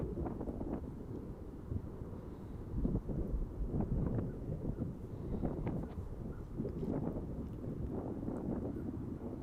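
Steady wind roars and buffets across an outdoor disc golf course during a competitive round, a continuous low rumble against the microphone with no clear voices.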